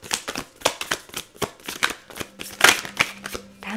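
Tarot cards being shuffled by hand, a quick run of crisp riffling flicks in an uneven rhythm, close and clear with no talk.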